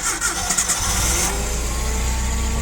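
A Komatsu FG20 gasoline forklift engine cranks and catches on a cold day outdoors, the starter whirring briefly before the motor settles into a loud, steady close-up idle.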